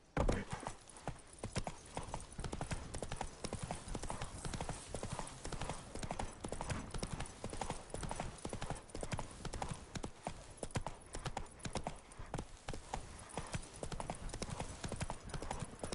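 Roach the horse's hooves in The Witcher 3, a steady rapid clip-clop of galloping hooves continuing throughout, loud and close, with a brief voice near the start.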